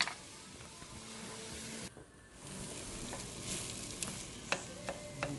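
Meat sauce fries in a pan while a wooden spoon stirs and breaks it up, a soft continuous sizzle with scattered scraping clicks, fairly quiet and without speech.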